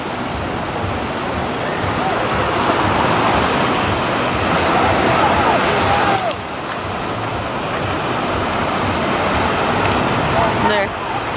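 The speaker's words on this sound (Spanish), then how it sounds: "Ay, mira el mar, qué rico." Ocean waves wash steadily onto a beach in Hawaii, a loud continuous roar of surf with rising and falling swells.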